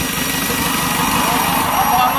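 A motorcycle engine runs steadily after its ignition timing has been fixed, a continuous close rumbling idle with a constant mechanical buzz and no pauses.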